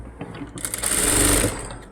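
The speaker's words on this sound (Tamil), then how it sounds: "படிமான தையல் போட்டாச்சு" A sewing machine stitching a blouse seam, running in one short, steady whirring burst close by after a brief start-up, then easing off.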